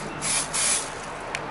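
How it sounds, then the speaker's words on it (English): Olive oil cooking spray hisses from a can in a few short, close bursts, the middle one the longest, with no voices. "a little bit of olive oil spray."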